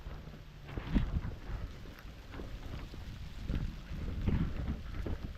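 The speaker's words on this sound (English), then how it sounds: "it's downpouring right now" Heavy rain pours down outdoors during a walk in Lewiston, Maine, a steady dense hiss with gusty wind noise buffeting the microphone, fairly faint and continuous with no talking.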